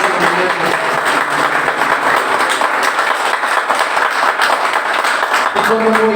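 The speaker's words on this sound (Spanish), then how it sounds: "Un fuerte aplauso al Señor en esta mañana." Congregation in a church service claps loudly and steadily throughout, a dense roomful of hands with voices mixed in underneath.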